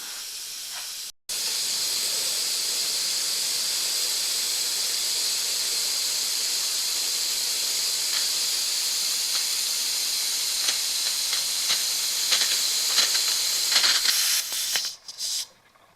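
Steady loud hiss of air escaping from the valve of a 1 lb propane tank during refilling, continuous after a brief gap, with faint sputtering clicks near the end before it cuts off.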